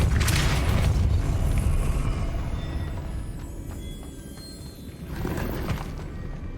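Depulso force-push spell cast in the Hogwarts Legacy video game: a loud booming magical burst at the start, a rumbling decay, then a second whooshing blast near the end, with no talking.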